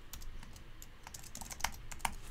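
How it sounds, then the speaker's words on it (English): Quiet typing on a computer keyboard indoors, a soft, irregular patter of key presses with a few slightly louder taps. "Let's type properly, shall I?"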